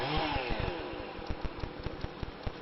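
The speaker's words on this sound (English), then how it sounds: "he's finished sawing up some firewood on the side of the hill" A chainsaw cuts firewood on a hillside, heard at a distance with a buzzing engine drone and a rapid series of sharp regular pulses as the chain bites, fairly faint and with no talk.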